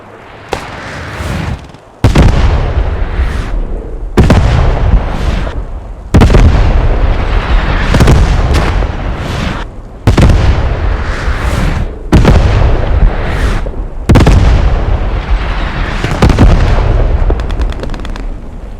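A commander call-in artillery barrage in a video game strikes repeatedly, each loud booming explosion followed by a rolling decay, a series of roughly eight heavy blasts close together.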